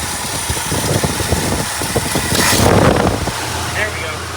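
A 1966 Cadillac Eldorado V8 with a freshly rebuilt carburetor idles cold on choke, a steady close rumble that swells briefly midway as it warms, with people talking over it.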